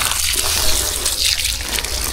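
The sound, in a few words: water flowing from a hose, watering young jackfruit plants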